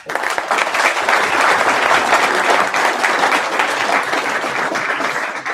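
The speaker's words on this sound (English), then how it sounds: "So clap it up." Audience at a Cursor tech meetup in Hamburg clapping after the talks, a loud, dense burst of applause that starts abruptly and stays steady for several seconds with no talking.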